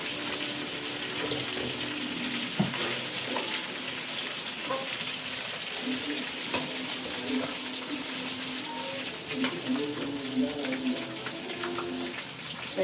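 Water runs steadily from a tap, a soft continuous splashing with a few clinks and small knocks scattered throughout.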